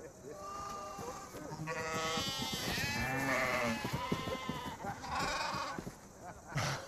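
Sheep bleat several times at a farm amid a group of people talking, the wavering calls rising over the voices through the middle of the scene.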